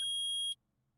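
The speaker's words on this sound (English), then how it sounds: "Beep." A single steady electronic beep from the Phoenix Wright Ace Attorney video game, a pure high tone lasting about half a second and then cutting off sharply into near silence.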